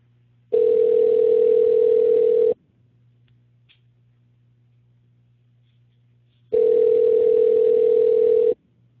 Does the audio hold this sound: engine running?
no